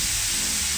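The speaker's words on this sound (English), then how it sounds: "I love the sound of sizzling food" Drained canned chickpeas sizzle in a hot pan, a dense continuous hiss of frying filling the short moment at steady, close loudness.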